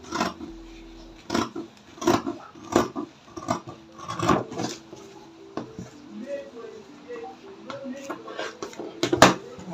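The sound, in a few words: cutting fabric for a shoulder bag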